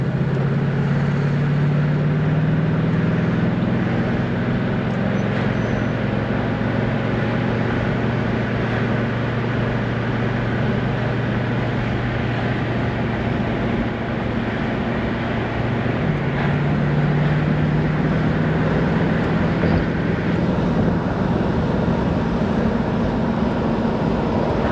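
A 1968 AMC AMX with a 390 engine cruising down the road, its steady low engine drone and road rumble heard from inside, continuous and loud, with the pitch shifting as it changes gear.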